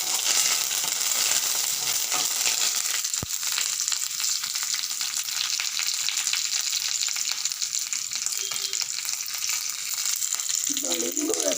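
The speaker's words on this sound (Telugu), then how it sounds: "2 రెమ్మలు కరివేపాకు కూడా వేసాను." Curry leaves sizzle loudly in hot oil for amla pulihora, a dense continuous crackling hiss filling the whole stretch, with a brief clink near the end.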